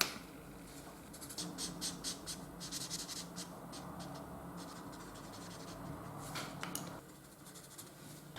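Ohuhu alcohol marker strokes across paper while coloring in skin, a quiet run of soft, rhythmic scratchy rubs close up with short pauses between passes.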